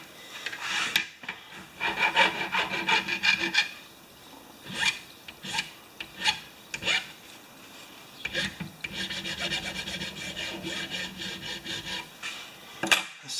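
A hand file rasps back and forth, cutting a small chamfer around the edge of a part from a Honda HR194 lawn mower carburetor, in uneven bursts of close, scratchy strokes separated by short pauses.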